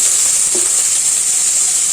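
Chopped ridge gourd sizzling in a hot pan for a kuzhambu, a steady loud hiss close by, with one soft knock near the start as the pieces go in.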